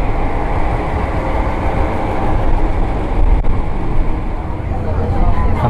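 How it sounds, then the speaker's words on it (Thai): A heavy, continuous rumble of a special excursion train beginning to roll toward Khok Salung station at the Pa Sak Jolasid Dam, loud and close, with a low mechanical drone and a brief click midway. "ตอนนี้รถไฟก็เริ่มเคลื่อนตัวนะฮะ"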